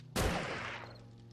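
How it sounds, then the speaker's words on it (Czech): A single gunshot in 7 Days to Die cracks out sharply and fades into a short tail, fairly faint and heard on its own. "A, slyším výstřel."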